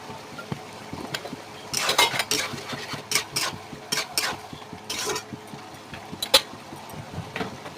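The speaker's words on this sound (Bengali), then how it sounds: "ফের একটু নেড়ে চেড়ে দিলাম" Fish-fat chorchori of rohu and catla fat with vegetables being stirred in a pan, irregular bursts of spatula scraping and clinking over a faint low sizzle.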